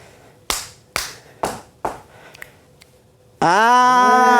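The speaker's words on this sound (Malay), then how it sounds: "Saya nak tunggu guna tangan, petik jari dengan hentak kaki." Body percussion in a children's music lesson: four sharp, evenly spaced hand claps, then a few faint finger snaps, followed by a loud sustained tone that cuts in abruptly at the end.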